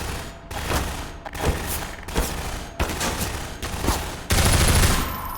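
Gunfire from a powerful weapon in the video game Half-Life 2 VR: a series of about seven heavy, booming shots at roughly even intervals, close and loud, without speech.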